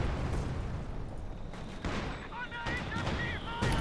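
A Katyusha rocket barrage in a video game: a loud, crackling rush of rapid launches and bursts layered with gunfire-like pops, running continuously with a few sharper spikes, and a voice talking underneath.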